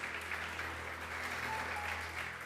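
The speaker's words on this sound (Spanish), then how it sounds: "Denle un fuerte aplauso al Espíritu Santo" Church congregation applauding steadily in a large room, a dense even wash of clapping that holds at moderate loudness for a couple of seconds.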